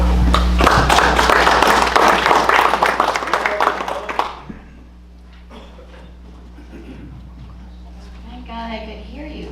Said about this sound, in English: With all the clapping, it was very difficult to hear you call